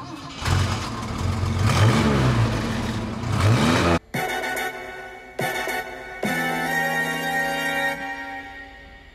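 A classic car's engine revs and rumbles as it is driven a few metres into a workshop, loud and close, shifting from a throaty surge to a steadier idle with brief breaks, no talk.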